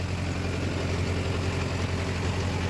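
A Mahindra Yuva Tech+ 585 tractor engine running with a 42-blade rotavator in wet soil, a steady, loud low diesel drone with a constant rumble and no breaks.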